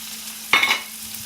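Kale stirred in a pan with olive oil gives a single short scrape-and-sizzle burst over a steady low hum, near and moderately loud, then fading back to quiet.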